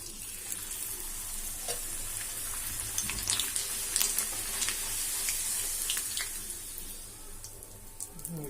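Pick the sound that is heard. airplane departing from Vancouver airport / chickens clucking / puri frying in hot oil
puri frying in hot oil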